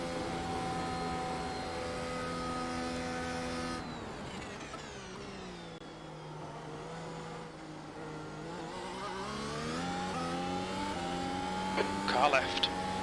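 Four Mercedes W12 Formula 1 cars run side by side in iRacing, their engines droning and shifting pitch together at close range while a voice talks over the steady mechanical whine.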